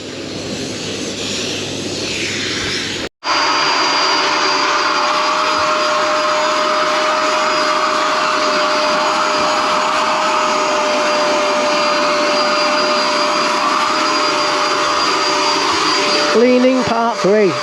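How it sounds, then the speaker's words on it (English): A vacuum cleaner hoovers the interior of a hire boat on the Norfolk Broads in winter, a loud steady whine running nearly throughout after a brief cut near the start, with a faint voice under it. "I'm going to hoover behind here, which that never gets done by the cleaner."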